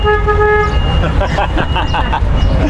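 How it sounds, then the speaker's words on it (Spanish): A car horn sounds in short toots over a running engine, with voices talking close by throughout. "¿Tiene bocina este coche?"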